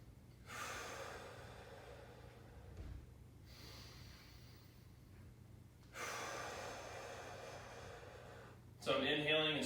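Breathing during a squat warm-up exercise: broad airy inhales and exhales in long swells, close and fairly quiet, ending with a sharper, louder burst.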